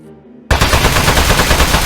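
Gunfire in the video game Aperture Desk Job erupts after a brief quiet moment into a loud, dense burst of rapid shots that continues to the end.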